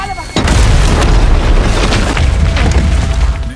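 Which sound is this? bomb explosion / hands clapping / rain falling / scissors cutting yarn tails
bomb explosion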